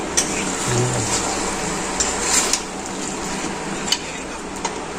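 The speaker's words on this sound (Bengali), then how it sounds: "ভালো করে কষিয়ে দিই" Goat meat being sautéed and stirred in a pan on a home stove, with a steady frying sizzle, occasional spoon scrapes and clinks against the pan, fairly close and without talk.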